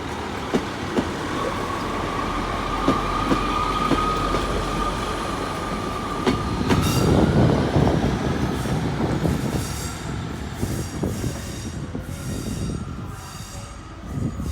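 A train pulls out of Exeter St Davids station, with a sustained loud rumble, wheel squeal and a steady high tone that slides upward as it gathers speed, with a rhythmic clatter building toward the end.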